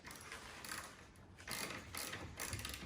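A bolt being turned with a tool to thread a nut while assembling an Amish chair, heard as a few bursts of close ratcheting clicks separated by short pauses.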